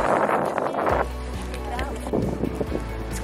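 Strong, gusty wind roars across a street in central The Hague, Netherlands, on a sunny January afternoon, loud broadband buffeting against the microphone for the first second, then a steadier rushing noise over a low rumble.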